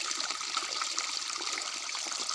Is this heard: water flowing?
yes